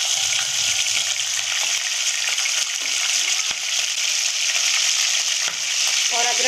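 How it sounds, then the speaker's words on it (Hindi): Minced meat (keema) sizzles and fries with onions in a pan, a steady, close, loud hiss with occasional stirring scrapes throughout. "अब हमारी प्याज फ्राई हो गई है और हम इसमें कीमा डाल देंगे।"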